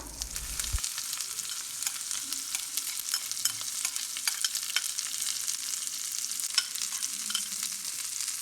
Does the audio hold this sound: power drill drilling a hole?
no